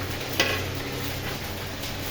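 Vegetables frying in a pan for a bhog offering, a faint steady sizzle with a brief stirring scrape near the start, alone without talk.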